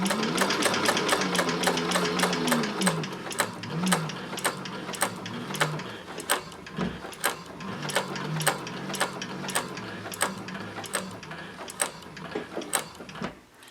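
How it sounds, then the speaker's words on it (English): A Techsew 4800 Pro sewing machine runs steadily while top stitching down a folded edge, its close, loud mechanical whir punctuated by a regular series of sharp clicking needle strokes, with no talking. "I'm just using the edge of the foot there as my guide to top stitch down the folded edge here"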